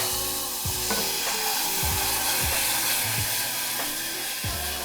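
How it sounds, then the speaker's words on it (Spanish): Chicken broth poured into a pan of golden, cooking flour roux sets off a loud, steady sizzle and hiss with bursts of bubbling and stirring throughout. "ya que se volvió dorada nuestra harina, vamos a agregar el caldo de pollo"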